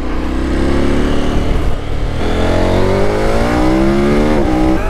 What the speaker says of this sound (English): it's just given the bike that little low-end burble that it needed. And there's a lot of popping when you downshift.